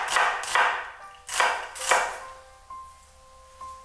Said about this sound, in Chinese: 半个洋葱切丝